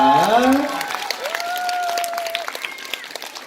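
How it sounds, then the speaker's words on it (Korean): An audience claps steadily at a children's recital, the applause carrying on under a sustained tonal sound at the start, with scattered individual claps toward the end. "한번더큰 박수가 필요할 것 같습니다"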